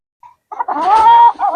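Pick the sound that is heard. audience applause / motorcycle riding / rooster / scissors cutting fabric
rooster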